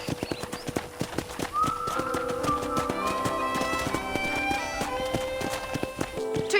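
Horse hooves clip-clop steadily in a rhythmic gait while riding across a Red Dead Redemption property, with a whinny and tonal game music or ambience layered over the continuous hoofbeats.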